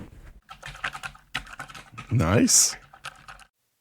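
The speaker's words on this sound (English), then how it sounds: "It's definitely, I don't think, as clicky as my other keyboard because I think I had reds on my previous keyboard, like cherry reds." Mechanical keyboard being typed on, rapid clicky keystrokes in quick bursts close to the microphone, with a brief spoken word in between.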